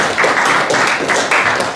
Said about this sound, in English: I think deserves a round of applause